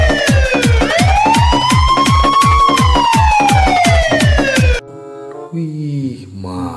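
A toy ambulance blares a loud electronic siren, a wailing tone that sweeps up and down over a rapid pulsing beat for several seconds before cutting off into a short, different electronic jingle.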